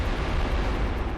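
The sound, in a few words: bomb explosions in the video game Wild Arms 3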